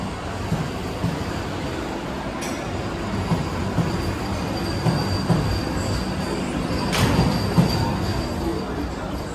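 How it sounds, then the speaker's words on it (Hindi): A Vande Bharat Express runs along the Konkan Railway, heard from inside the carriage as a loud, steady rumble of wheels on track with brief squeals and faint clatter. "the best part of this train is it's immediate acceleration"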